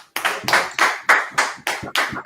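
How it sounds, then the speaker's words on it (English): About eight sharp, evenly spaced hand claps from a group at a Saturday morning class before Sabbath service, loud and close in a steady rhythm. "Clap it up."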